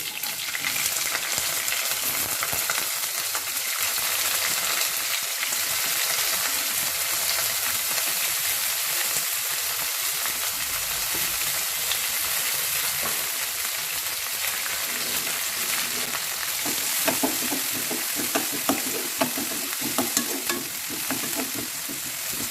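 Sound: onion and green chilli frying in a pan

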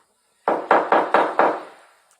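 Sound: door knocking in video game Toca Boca

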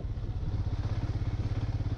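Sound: motorcycle starting and riding

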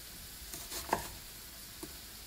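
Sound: stir-frying pork with carrots and vegetables

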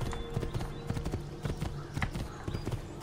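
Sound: horse hooves from the video game Assassin's Creed II

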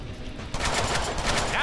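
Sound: machine gun fire in the Deadpool video game

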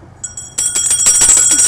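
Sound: bell rung to celebrate the last day of chemotherapy

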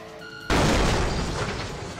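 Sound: bomb explosion in Buckshot Roulette (Plunger Roulette) video game

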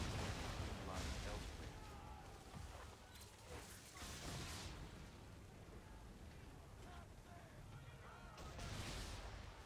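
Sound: cannon shots fired at sea in video game Assassin's Creed III

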